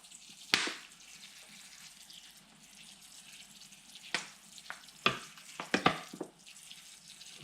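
Water trickles and drips quietly as it drains through a freshly repotted bonsai, with a few louder splashes and drops among a soft continuous flow.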